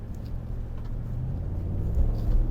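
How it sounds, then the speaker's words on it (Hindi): Low, steady exhaust rumble from a Ford F-150 Platinum pickup with a 3.5 EcoBoost engine, a deep continuous drone that swells slightly toward the end. "इसका जो शोर है वो अमेजिंग, एग्जॉस्ट की जो गूंज है वो बहुत ज़्यादा है"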